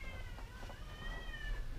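A cat left behind in an abandoned rental house meows in a drawn-out, wavering cry over low background rumble.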